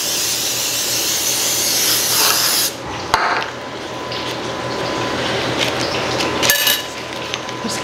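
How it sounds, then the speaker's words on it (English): A steady hissing of cooking spray onto a pan runs for a few seconds, then stops; faint clatter and a second short burst of spray follow, fairly close. "First, I'm gonna spray this really good."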